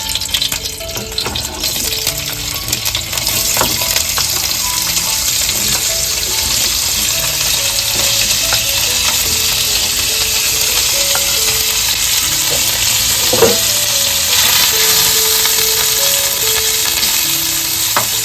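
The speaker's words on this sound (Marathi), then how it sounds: "आता ना आपल्याला पनीर ना फ्राय करून घ्यायचे आहेत" Paneer pieces frying in oil in a pan make a loud, dense, continuous sizzle that holds steady for the whole stretch, close up, with only a few faint clinks and no speech.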